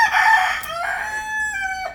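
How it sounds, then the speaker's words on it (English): A free-roaming rooster in the Cayman Islands crows once, loud and close, with a long drawn-out call that holds and then trails off, standing alone with no talk. "in the Cayman Islands, there are free roaming chickens everywhere, roosters"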